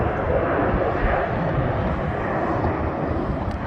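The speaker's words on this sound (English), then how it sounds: "Here's Delta 2040, service to Atlanta, A321. Pulling out on its either IAE or CFM engines." Delta Air Lines Airbus A321 with IAE or CFM engines pulling out at Milwaukee airport, a steady loud jet engine roar with broadband rumble throughout, close by and alone.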